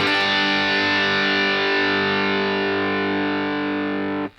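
A single chord on a heavily distorted electric guitar, topped with its highest note, sustaining loud and steady for about four seconds before being cut off sharply.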